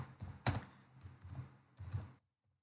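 Typing on a computer keyboard during accounting software entry: a few close, distinct key clicks in small bursts, one sharper tap near the start, then silence at the end, no talk.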